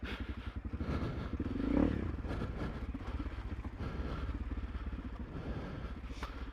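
A Honda CRF300 Rally motorcycle engine chugs with a close, rhythmic, low-pitched thump, swelling briefly as it revs before dropping back to a steady run, with some wind noise.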